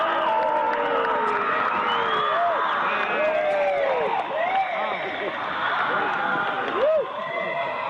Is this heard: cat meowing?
no